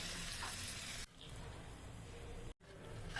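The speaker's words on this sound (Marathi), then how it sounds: "जिरे व मिरचीला व्यवस्थित फोडणी बसलेली आहे" Cumin seeds and green chilies sizzle in hot oil as a tempering for a fasting sabudana dish, a steady close broadband crackle with two brief dips where the sizzle cuts out.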